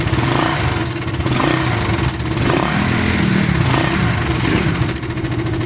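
A 2016 motorcycle engine with badly worn internals, running with a lingering noise at low idle, drones loudly and steadily, with slight surges, for about six seconds; no voices.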